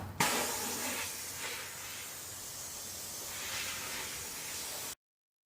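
A homemade oil spray gun sprays undercoating oil beneath a vehicle, giving a steady, close, continuous hiss that starts abruptly and runs for about five seconds before cutting off.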